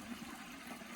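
Steady, close rush of water spilling from natural pool waterfalls fed by a small pool pump, a continuous splashing wash with no breaks or voices.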